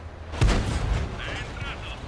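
A tank cannon fires once in World of Tanks, a sharp, heavy boom followed by a decaying rumble and faint mechanical clinks, loud and close, with commentary talk around it.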